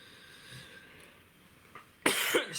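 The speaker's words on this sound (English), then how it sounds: "Excuse me for coughing." A single sharp cough near the end, close and loud after a quiet room hush, from someone tying fly-fishing flies.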